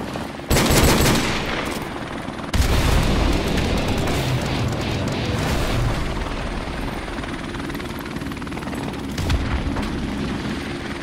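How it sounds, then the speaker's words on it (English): A friendly helicopter in Call of Duty Modern Warfare Remastered roars loud and close with continuous rotor thump, while gunfire bursts and occasional booms crack over it; no talk is heard. "Friendly helicopter on the way."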